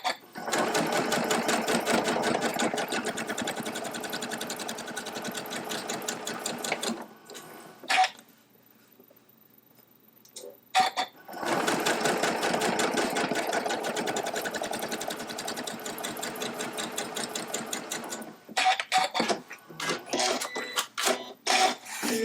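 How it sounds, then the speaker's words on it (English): A sewing machine runs in long steady bursts, stitching quarter-inch seams along both sides of a drawn diagonal line on quilting fabric, with a short pause mid-way and faint talk near the end. "We're going to go to the sewing machine. We're going to sew a 1/4 inch away, either side of the diagonal line"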